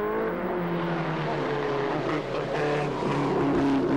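A BRM post-war racing car leads on its second lap at a Silverstone vintage race meeting, its engine a loud sustained roar with a steady rising pitch as it passes close by.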